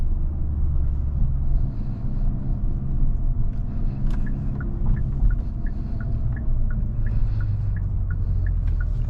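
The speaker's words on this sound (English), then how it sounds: "The exhaust sounds pretty awesome." A 2023 Hyundai Kona N driving, with a steady low engine and exhaust drone under road rumble, plus a faint rhythmic ticking partway through.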